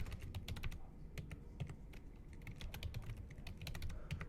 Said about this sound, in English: Then you're going to type in a password.